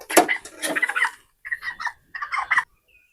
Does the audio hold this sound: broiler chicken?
yes